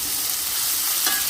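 Onions sizzle and fry in an oiled pan for vegetable fried rice made from leftover rice, a dense continuous hiss with a brief stir of the spatula, close and loud.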